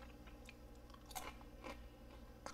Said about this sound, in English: You can hear how crunchy the pizza is.